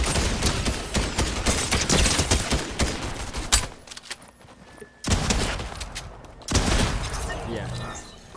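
Rapid bursts of Fortnite gunfire crackle through most of the stretch, with a brief lull partway before dense shooting resumes, loud and close, while players shout over the battle.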